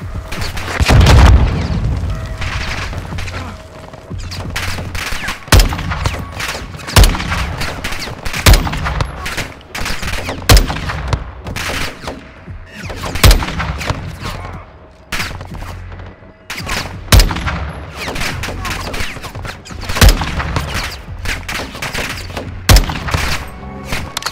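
Sustained gunfire and booming explosions in a Call of Duty: Modern Warfare 2 (2022) battle, with repeated loud shots and bursts over a dense, continuous combat din.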